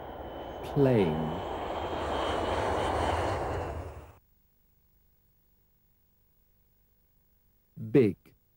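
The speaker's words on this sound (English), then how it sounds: "Plane." A loud airplane engine roars steadily for about four seconds and then cuts off abruptly, followed by silence and a brief voice.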